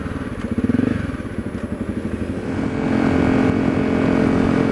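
A Honda CRF250L motorcycle cruises with a silenced Yoshimura RS4 exhaust, a soft steady engine drone with a pulsing throb at first that smooths into an even hum, close to the rider.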